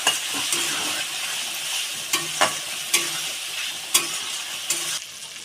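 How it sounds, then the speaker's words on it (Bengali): Chicken pieces frying in oil with tomato, spices and a splash of water for chicken biryani, a steady close sizzle broken by sharp spoon scrapes and stirring knocks against the pan, no talk. "মাংসটা ভালো করে কষিয়ে নেবে"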